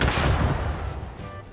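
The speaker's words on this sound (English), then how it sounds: "The explosion's pretty good on a basic level." A grenade explosion in the video game Starfield, a single loud broadband blast that decays over about a second into a fading rumble and faint ringing tail.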